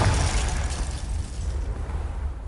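A Confringo blast spell detonates in Hogwarts Legacy, a loud, rumbling, sustained burst of low booming noise that slowly fades over a couple of seconds.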